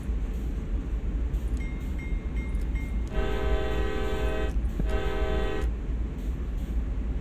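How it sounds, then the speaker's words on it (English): A CSX heavy-haul freight locomotive in the Train Sim World game sounds its horn in two long blasts, with a short pause between them, over a continuous low engine rumble. "Let's see what happens if I try to move the train."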